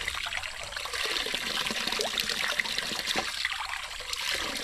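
Spring water welling up from under the ground and flowing, a steady close trickle and gurgle that runs on without a break and with no voices.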